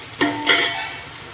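Chopped onions with spices hit hot oil for mutton biryani cooked outdoors in a village, giving a brief close sizzle with two quick stirring scrapes.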